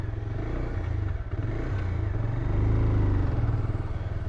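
A Bajaj Pulsar 180 motorcycle engine runs steadily in second gear, a close, continuous throbbing drone that swells slightly toward the end, with no voices.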